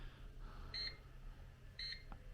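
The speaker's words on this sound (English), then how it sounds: "the timer's about to go off, so let's have a listen" A Bosch oven timer gives two short, high electronic beeps about a second apart, faint against a low background hum.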